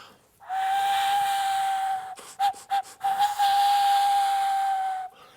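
A shrill, steady whistling tone of air blown through a naturally hollow stone, held for a few seconds, broken by several short bursts, then sustained again with breathy hiss.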